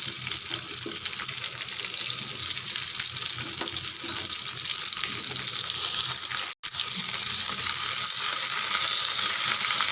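Steady, bright sizzling of okra sautéing in hot oil fills the clip, with a brief break partway through before the hiss resumes.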